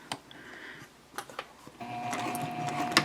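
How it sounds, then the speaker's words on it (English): Sewing machine stitching over a D-ring tab on a fabric shopping bag, starting with scattered handling clicks and taps, then a steady close mechanical whir running through the final second or so. "I'm actually going to sew over that a couple of times."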